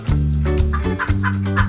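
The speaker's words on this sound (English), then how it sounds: "Chicken." Farm chicken clucking in a quick run of close, loud calls, with a steady tonal backing layer running throughout.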